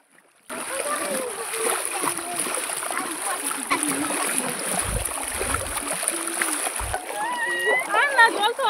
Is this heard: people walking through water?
yes